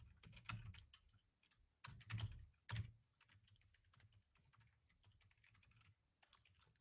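Someone types on a computer keyboard in uneven bursts of soft key clicks with a few louder taps, quiet and close, with no talking.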